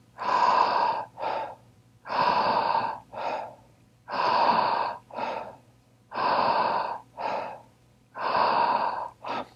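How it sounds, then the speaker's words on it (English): Deep breathing exercise with slow, even cycles: five long inhales, each followed by a shorter exhale, repeating in a steady rhythm, close and clear with no talking. "What's most important is that you keep breathing."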